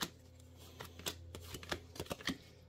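Topps baseball trading cards from a 2023 Series 1 box being handled and flipped, a run of crisp, close papery snaps and slides at an uneven rhythm with no talking.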